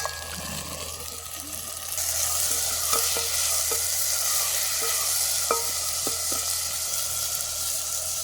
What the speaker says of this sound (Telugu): తక్కాలి వేసుకుందాం